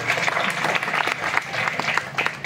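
An audience clapping at a kirtan, a steady patter of many hands close by, sustained throughout with irregular sharper claps.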